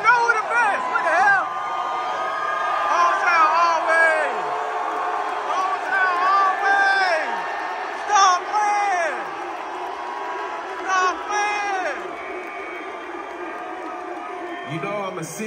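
Concert crowd at a hip-hop show in Atlanta whooping, cheering and shouting in waves, loud and close, with a performer talking over the noise at times.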